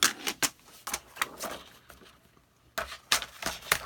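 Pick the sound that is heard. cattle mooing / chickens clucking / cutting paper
cutting paper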